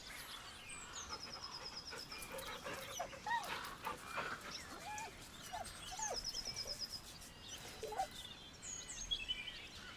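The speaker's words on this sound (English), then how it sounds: "The dog whimpers nervously" A dog in the Baldur's Gate 3 video game whimpers nervously in short, high, wavering whines repeated through the clip, set against a game ambience of chirping birds.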